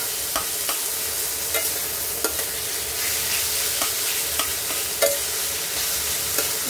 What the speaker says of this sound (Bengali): এবার মাছগুলোকে দিয়ে দিলাম।